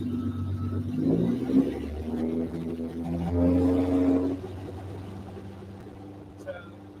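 A Toyota 1MZ-FE engine runs at about 2,000 RPM with a steady, close, droning hum that swells briefly and then settles, while someone talks over it.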